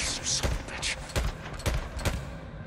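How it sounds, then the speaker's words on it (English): Gunshots in the video game Days Gone, fired at militia: four distinct punchy shots spaced about half a second apart over a dense, noisy game background. "I'll just shoot him in the head."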